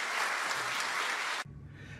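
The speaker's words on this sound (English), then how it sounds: "let us welcome in person with a big round of applause" An audience at a University of Guyana honorary degree ceremony gives a round of dense, steady applause. It cuts off abruptly near the end, leaving quiet room tone.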